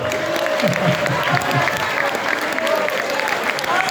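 A concert audience at a tribute band show claps steadily, dense applause with some voices and light cheering mixed in, holding strong for a few seconds.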